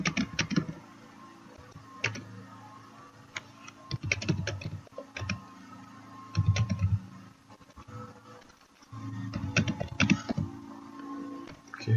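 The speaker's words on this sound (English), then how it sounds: "you can type your codes here easily" Code being typed on a computer keyboard, heard as close, irregular bursts of key clicks and taps separated by short pauses, with no voices.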